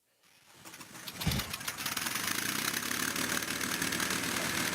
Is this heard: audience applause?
no